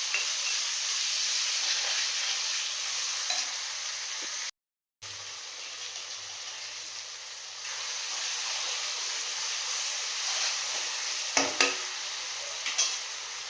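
Onions and chopped tomatoes frying in a pan with a steady sizzle and hiss, with a few soft scrapes of stirring near the end and a brief cut in the middle.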